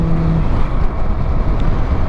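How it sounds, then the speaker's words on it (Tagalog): A 175cc motorcycle riding on a road, heard as a steady loud roar of engine and rushing wind buffeting the microphone, continuous and close without any talking. "175 lang po itong ating gamit na motor."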